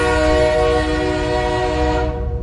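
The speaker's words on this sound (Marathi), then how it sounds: "त्या क्षणी कंटाळा बसवणारा हॉर्न ऐकू आला" A loud, sustained train horn sounding close by under a steady rolling rumble, then cutting off sharply near the end, with no voices.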